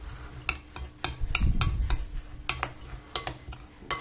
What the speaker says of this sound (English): We mix the almonds well